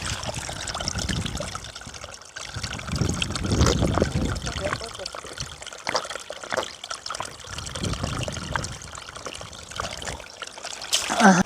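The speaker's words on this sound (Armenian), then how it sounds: "Ֆիլտրված սարերից հոսող աղբյուրների ջուր" Filtered spring water running down from the mountains, trickling and pouring in a steady stream throughout, heard close up with voices over it.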